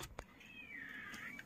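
A calico cat at an old homestead gives one drawn-out, rising and falling meow up close. It is faint but clear, with a couple of soft clicks just before it and no talking.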